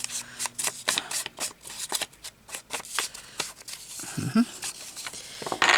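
Scissors snipping a piece off a paper booklet made from 12 by 12 inch paper, heard as a quick run of crisp, close cuts and rustles, with a brief voice near the end.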